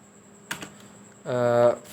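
Code typed on a computer keyboard: a short cluster of key clicks, then a brief voice over a quiet room hum.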